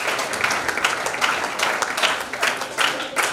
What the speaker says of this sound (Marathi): जोरदार टाळ्या माईसाठी.